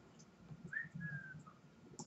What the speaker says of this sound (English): I think you need to work on your whistling skill